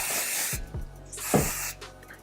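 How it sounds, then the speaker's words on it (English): A beachy, gritty texturizing hair spray hisses out in two short bursts, the second one longer, sprayed close by onto a full head of hair with no voices. "Back in with the beachy, gritty spray."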